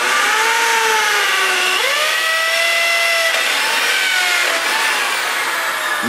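A power drill bores into rock for a reef tank sculpture, its loud motor whining close by and shifting pitch as the bit loads and frees, running nonstop without talk.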